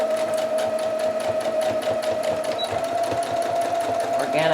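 A sewing machine runs in one continuous close, loud burst, its rapid needle chatter stitching fabric scraps onto a small handmade bohemian book.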